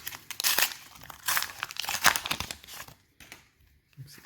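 McDonald's Pokémon booster packs (2019 and 2021) are torn open by hand, with several sharp crinkling foil rips in quick bursts, close up, followed by quieter rustling.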